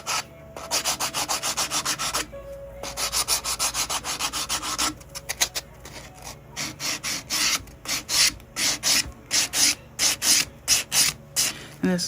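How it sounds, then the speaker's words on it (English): A 180-grit nail buffer scrubs scratches off a fingernail in close, rhythmic back-and-forth rasping strokes, one run of strokes, a short pause, then more strokes that grow shorter and more clipped toward the end. "What I am going to do is use a buffer. Because there's tons of scratches in this nail."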